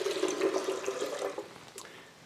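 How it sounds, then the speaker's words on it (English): Water poured into a blender for a green smoothie, a close, steady splashing gurgle that tapers off toward the end, with no talk. "we're just going to add some water first here"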